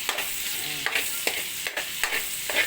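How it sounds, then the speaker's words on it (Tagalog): Garlic and onion sautéing in a pan for sautéed mung bean sprouts: a steady close sizzle broken by repeated scraping strokes of a spatula at roughly regular intervals. "Gisa po ako ng bawang sibuyas para masarap ang toge"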